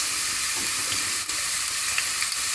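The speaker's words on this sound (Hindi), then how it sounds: "1 टीस्पून चॉप्ड लहसुन ऐड करना है। लहसुन का बहुत हल्का सा फ्राई करना है" Chopped garlic frying lightly in a pan, a continuous bright sizzle with faint stirring scrapes, close and steady.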